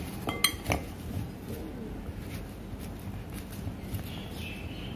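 Spoon clinking against a bowl while two spoons of turmeric powder are mixed into mango pieces for oil-free pickle, with a couple of sharp clinks early on, then quieter scraping.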